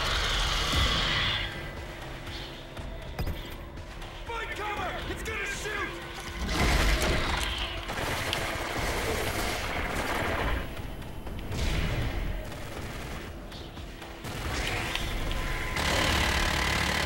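A purchased turret in Call of Duty Ghosts Extinction fires in dense, sustained bursts amid game noise and explosions, with players talking excitedly over the gunfire.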